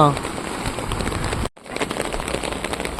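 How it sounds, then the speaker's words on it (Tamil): Heavy rain pours down at a harbour beach, a steady dense hiss and patter that runs throughout, with a voice heard briefly at the start and a short dropout midway. "எப்படி மழை பெய்யுன்னு மட்டும் பாருங்கள் சரியான மழை"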